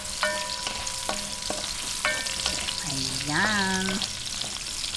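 Carrots fry in a pan with a continuous soft sizzle, while a utensil clinks and scrapes against the pan several times and a brief word is spoken.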